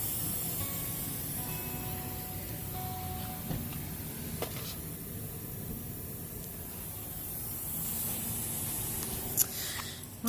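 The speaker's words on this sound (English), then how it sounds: "is the sound of our tire getting flatter." Air hisses steadily from a flattening tire, a continuous broadband rush heard close up, with faint background hum and a few small clicks, and no talking.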